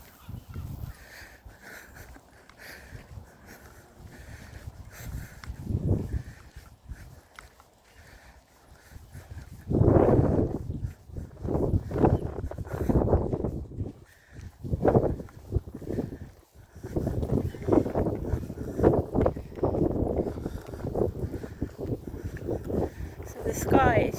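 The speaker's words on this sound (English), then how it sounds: "The sky is full of clouds, it's windy" Gusty wind buffets the microphone on a cloudy afternoon countryside walk with a dog, rising into loud, irregular rumbling bursts from about ten seconds on, with brief lulls between gusts.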